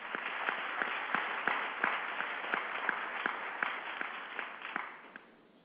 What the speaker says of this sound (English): Please join me with a big round of applause.